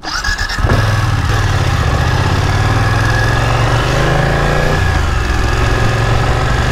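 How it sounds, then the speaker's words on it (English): A 2020 BMW F900R motorcycle engine catches and settles into a loud, close, steady idle with a throbbing low rumble and a slight shift in tone midway. "So now you're going to get on the F900R, my bike."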